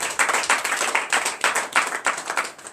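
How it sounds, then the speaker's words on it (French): Congregation at a morning prayer service in Benin clapping in acclamation, a brisk, steady run of rhythmic hand claps, close and loud throughout with no talk. "Donnez l'acclamation à Jésus."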